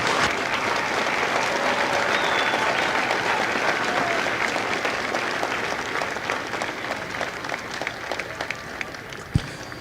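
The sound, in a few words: audience applause at Marine graduation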